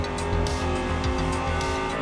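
Racing car engine noise from the Forza video game, a steady loud drone with tire squeal and shifting revs running continuously throughout.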